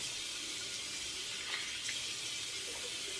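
Warm water running steadily from a bathroom tap for a safety razor shave, a constant close splashing hiss with a few faint clinks, no talking.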